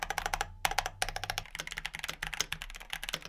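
Rapid typing on a keyboard fitted with stock Kailh Box Red Bean Pudding switches, unlubed and unfilmed, giving dense close clacky keystrokes in quick uneven bursts with a soft hum underneath.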